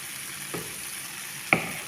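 Masala with tomato sauce frying in a pan for a dry beef roast, a steady hiss of sizzling with a faint thump near the middle and a sharper clink or pop near the end, short and close.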